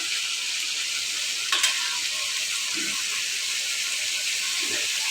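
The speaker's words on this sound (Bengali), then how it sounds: "এখন আমি সবজিকে এর মধ্যে দিয়ে দিব" Fish head curry frying in a pan, with a steady broad sizzle and hiss throughout, a brief clatter as chopped bottle gourd, potato and sweet potato go in, and soft stirring scrapes afterward; no talking.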